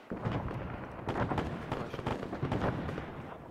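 Serbian artillery fire in a video game: a dense run of heavy booms and crackling blasts blending into a continuous rumbling barrage, loud and close, with no voices over it.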